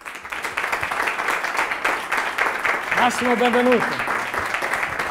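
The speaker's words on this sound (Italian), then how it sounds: "Avete sentito l'applauso?" Studio audience applause at a local Italian TV show, a steady wash of clapping throughout while someone speaks over it near the start and another voice joins midway.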